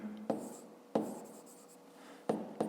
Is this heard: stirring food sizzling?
no